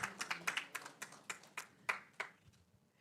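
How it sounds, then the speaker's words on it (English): Scattered, sparse clapping from a small group at a regional consultation meeting, a few distinct claps ringing out irregularly at low volume in a quiet room. "So, a huge applause from Francine."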